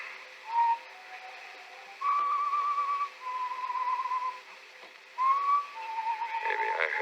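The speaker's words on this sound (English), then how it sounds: "I heard that whistling again. That same tune." A lone person whistles a slow, eerie tune in a radio drama, with long held notes and brief gaps between phrases, clear and fairly close over a quiet background.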